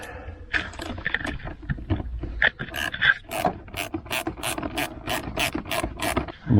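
A ratcheting tool clicks rapidly as the air intake clamp is tightened during an air filter replacement on a Chevrolet Colorado, loud close-up bursts of metallic ticks with some rubbing and handling in between.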